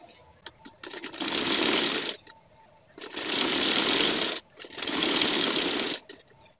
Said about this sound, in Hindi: सबसे पहले आसन की सिलाई लगाते हैं यहाँ से यहाँ तक।